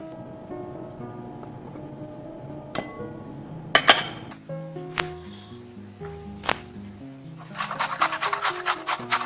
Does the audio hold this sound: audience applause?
no